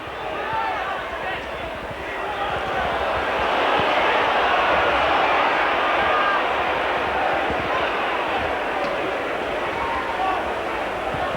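Football crowd at a Sheffield United versus Hull City match, a broad roar that swells in the middle and stays loud and steady, with a commentator talking over it.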